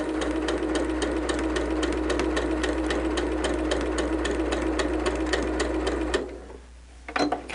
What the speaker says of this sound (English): stitching right across. I'm not back stitching.